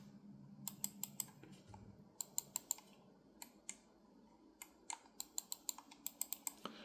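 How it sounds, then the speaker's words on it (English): Sharp Logitech M196 mouse button clicks, some single and some in quick bursts, crisp and close against a quiet low hum. "Now I'll shut up so you can hear the clicks of the Logitech M196."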